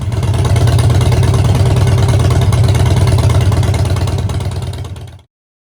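A 2010 Harley-Davidson FXDB motorcycle engine runs steadily at close range, a loud, deep, lumpy idle throb that holds for about five seconds and then cuts off abruptly.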